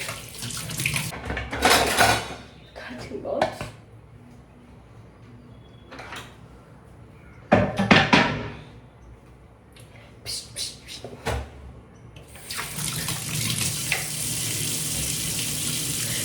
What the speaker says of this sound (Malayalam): ഇവിടുത്തെ ടാപ്പ് ലൂസാണ് ഗൈസ്. ടാപ്പ് ഇപ്പം ടൈറ്റ് ആവുന്നില്ല.